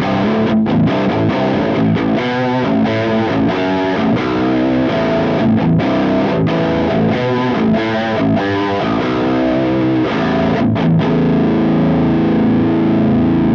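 Electric guitar through a NUX Metal Core Deluxe MKII pedal on the Freeman amp model with gain at full: thick, saturated high-gain chords and riffs played continuously, loud and close, with a sustained ringing chord at the end and no talk.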